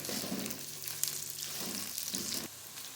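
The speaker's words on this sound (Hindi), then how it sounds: "भिंडी को हम तेज़ आंच पे फ्राई कर लेंगे।" Okra (bhindi) frying in oil over high heat, a steady dense sizzle with soft crackle running continuously and close, easing slightly near the end.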